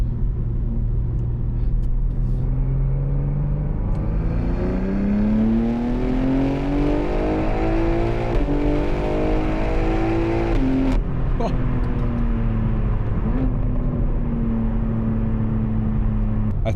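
A BMW M3 Touring G81 with a single midpipe exhaust system revs loudly and steadily, the engine note rising and falling in long sweeps as the car accelerates, close and continuous throughout.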